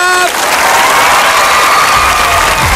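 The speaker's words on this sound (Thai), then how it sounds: "นี่ขอเสียงปรบมือให้กับคุณพี่ครับ" Studio audience applause on a Thai karaoke game show, a dense loud wash of clapping with some crowd noise, after a brief sung or tonal voice at the start.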